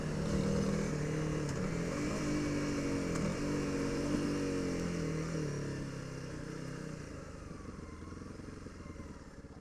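A Honda CRF300L motorcycle pulls over and comes to a stop, its engine a steady mid-level drone that eases off and settles over the final seconds, with wind noise throughout.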